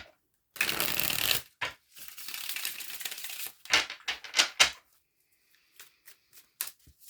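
A deck of tarot cards is riffled and shuffled up close in quick bursts, two long whirring runs followed by several shorter snaps and taps, with no voice over them.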